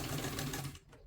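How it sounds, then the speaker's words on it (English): A sewing machine stitches a collar seam with a fast, steady mechanical whir that runs loud and continuous, then cuts off near the end. "I will proceed to stitching until I finish the seam"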